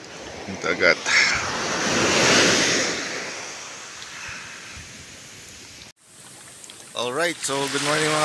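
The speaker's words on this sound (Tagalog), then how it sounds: "Ito na yung dagat dito sa Gonzaga." Surf rolls in on a beach with fine dark sand in Gonzaga, Cagayan, a steady broad wash of breaking waves swelling and easing, with someone talking briefly at the start and again near the end.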